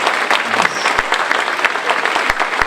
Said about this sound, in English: Can we have a round of applause for our amazing string orchestra?